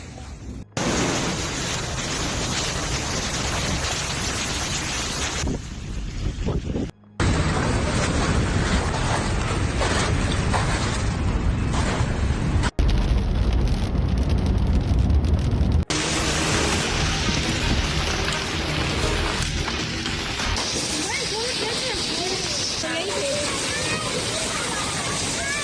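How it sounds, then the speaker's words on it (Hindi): A hailstorm in Multan, Pakistan, with large hailstones and heavy rain, a dense roaring wash of falling ice and water heard up close in several cut segments, with occasional talk underneath. "ये बहुत बड़े बड़े ओले हैं जी"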